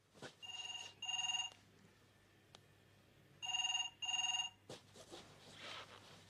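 An old-style telephone bell rings in two double bursts, loud and close, separated by a quiet pause, with a faint low hum underneath.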